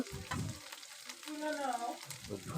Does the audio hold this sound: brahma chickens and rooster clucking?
no